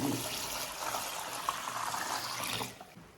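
Clean water pours into a basin holding about three and a half jin of long-grain glutinous rice for washing, a steady close splashing fill that tapers off near the end.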